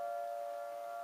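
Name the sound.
civil defense siren test at noon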